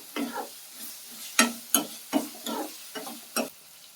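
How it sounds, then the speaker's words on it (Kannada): Vegetables and legumes being stirred in a pan, a spoon scraping and clinking against the metal in irregular strokes, with a faint sizzle underneath, close by and with no talking. "ಎಲ್ಲ ಕಾಳು ಚೆನ್ನಾಗಿ ಬೇಯೋವರೆಗೂ ಸ್ವಲ್ಪ ತಿರುಗಿಸ್ತೀವಿ"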